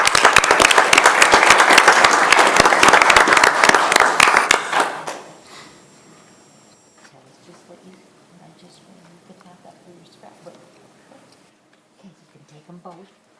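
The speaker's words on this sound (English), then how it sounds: "let's give her a big round of applause" A city council meeting audience gives a big round of applause, loud dense clapping for about five seconds that quickly fades out, followed by quiet room noise with faint movement and soft voices.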